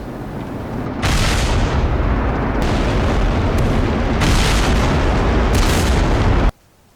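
American artillery firing from entrenched positions in a wooded area during wartime, a sustained heavy roar of booming blasts that rises abruptly and then cuts off, loud and close with no voices.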